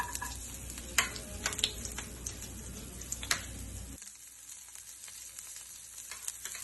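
Garlic and cumin seeds sizzle in olive oil in a pan, a close steady frying hiss broken by several clinking stirs of a utensil, the sizzle dropping lower near the end.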